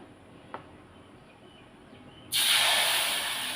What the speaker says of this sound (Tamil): உடனே நம்ம தோசை ஊற்றிடலாம்